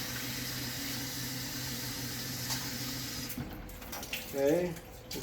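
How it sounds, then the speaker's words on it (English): Rice is rinsed under a running kitchen tap, a steady close hiss of flowing water that gives way to sloshing and swirling as the grains are stirred in the water near the end. "All right, so we're gonna rinse the rice."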